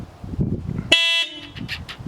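Aftermarket car horns bought on eBay give one loud, bright blast lasting about a third of a second, set against quieter background noise and muffled movement before and after.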